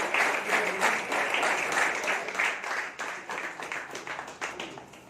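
An audience applauds at a community gathering tied to a cricket event in Siliguri, with dense, steady clapping throughout that softens slightly in rhythmic waves toward the end.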